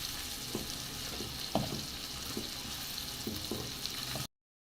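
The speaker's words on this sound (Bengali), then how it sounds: "চিংড়ি মাছটা আমার তেলের ভিতরে ভাজা হয়েছে" Prawns fry in hot oil with a steady, fairly quiet sizzle, broken by a few soft stirring knocks, before the sound cuts off abruptly.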